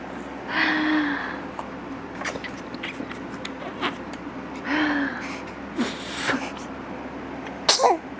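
Someone sneezes several times, close and loud, with a few sharp bursts spread over about eight seconds and small breaths and shuffles between them.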